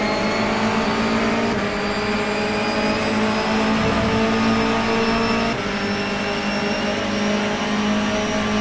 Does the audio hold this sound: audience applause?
no